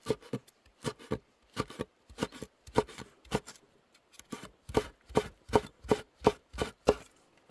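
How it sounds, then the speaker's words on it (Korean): A knife chops garnish vegetables on a cutting board for mung bean pancakes (nokdu bindaetteok): crisp, close strokes come in uneven clusters, then settle into a steady even rhythm, with no talking. "고명으로 쓸 것도 한번 썰어 놓겠습니다"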